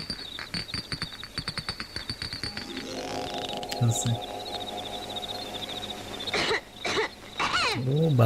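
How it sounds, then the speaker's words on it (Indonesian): In a scene from the old Malay comedy film Bujang Lapok, a few coughs and throat-clearing sounds come as a reply, heard over steady chirping crickets with some voices nearby. "Balasannya batuk ya."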